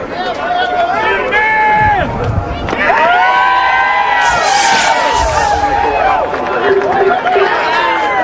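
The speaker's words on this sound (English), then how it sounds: "Now that's a happy crowd right there." Crowd at the 2002 Subway 400 NASCAR race cheers and shouts loudly, a busy roar of many voices with whoops and yells, fairly close, with chatter mixed throughout.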